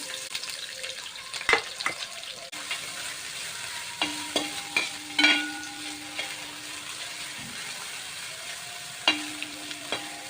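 A large chopped onion fries in a pan for veg pulao, giving a low, steady sizzle with scattered spoon clicks and scrapes as it is stirred now and then.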